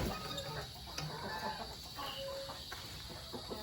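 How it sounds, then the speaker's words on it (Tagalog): Chickens cluck softly inside a coop on a rainy day, faint scattered calls over a steady background hiss. "yan yung mga manok natin"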